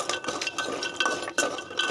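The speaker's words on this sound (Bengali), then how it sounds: "এখন দিয়ে দেবো মুরালি সব দিয়ে এগুলোকে নাড়িয়ে দেবো।" A spoon stirs murali snacks through sugar syrup in a pan, giving quick repeated scraping clinks and rustles at close range with no voices.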